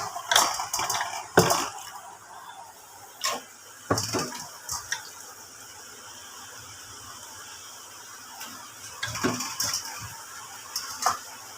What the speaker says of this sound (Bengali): চলো চিকেনগুলো দিয়ে আবার কষাতে থাকি